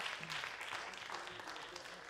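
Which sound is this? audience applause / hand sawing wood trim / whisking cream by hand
audience applause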